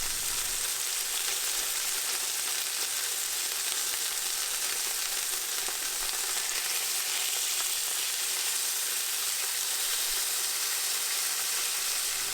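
Miso-marinated cod fillets fry in a pan, giving a steady, even sizzle and hiss that runs unbroken and fairly soft throughout.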